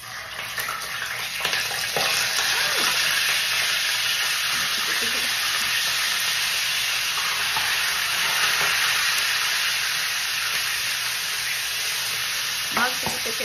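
Fish frying in hot cooking oil at a home stove, a steady dense sizzle with crackling pops running throughout, loud and close, with no talk over it.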